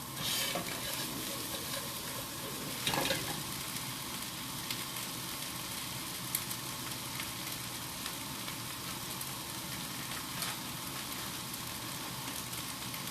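Vegan jerky slices being stir-fried with canton noodles in a pan, a steady broadband sizzle with soft stirring scrapes and a brief louder clatter, continuous and close throughout.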